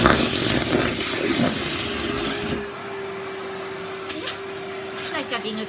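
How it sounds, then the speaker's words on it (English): A vacuum cleaner hoovers a Persian silk carpet, a loud steady whooshing drone that drops away partway through, leaving a thin whine and light bumps while someone talks nearby. "it's a good vacuum cleaner this."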